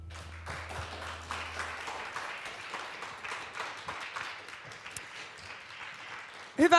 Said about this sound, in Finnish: Otetaan vielä kerran aplodit.